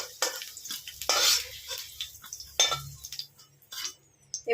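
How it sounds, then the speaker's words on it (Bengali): Fried potatoes are lifted out of a pan with a few close metal scrapes and clinks against the cookware, a faint sizzle trailing in between, with no speech. "আমি এবার আলুগুলোকে তুলে নিচ্ছি।"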